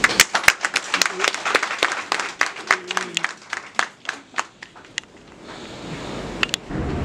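A small audience at a Guinean shipping company event claps to welcome new directors. Sharp, separate hand claps ring out near and loud for about five seconds, then thin out into a quieter room.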